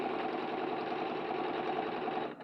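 A sewing machine runs steadily while stitching a trouser hem, its fairly quiet, continuous whirr holding even for the whole stretch before cutting off at the end.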